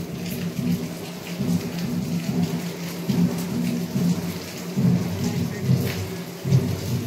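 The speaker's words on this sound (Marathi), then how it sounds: "आणि रिमझिम पावसाची सुरूच आहे" Steady drizzle patters on surfaces in a village during the rainy season, while low thunder rumbles repeatedly beneath it; no voices.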